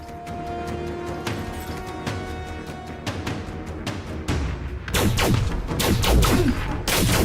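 Sniper rifle shots in the sci-fi game Elite Dangerous: Odyssey on the planet Cocijo, sharp cracks that start sparse and grow into a dense, loud burst of rapid gunfire near the end.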